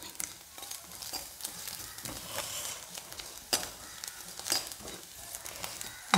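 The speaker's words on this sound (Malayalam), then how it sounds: "കുറച്ച് നേരം ഇങ്ങനെ ഇട്ട് വറക്കാം നമുക്ക്" Grated coconut dry-roasts and gets stirred in a hot Hindalium pan with the flame off, making a soft crackle with intermittent scraping and a few sharp metallic taps of the spoon, no talk.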